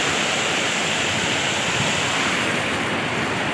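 Rain-swollen water pouring over a filled check dam near farmland, heard as a continuous heavy rushing roar, close and loud, with some wind buffeting the microphone and no talking.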